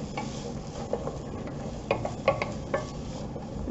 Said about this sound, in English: Now I'm just gonna stir these in here